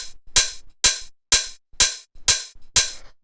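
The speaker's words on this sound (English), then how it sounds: "here's the hi-hat without the shaker" Minimal house hi-hat played alone without a shaker layer: a tight, bright open-ish hat hitting in a steady offbeat pattern, seven crisp hits with short decaying tails, loud and dry.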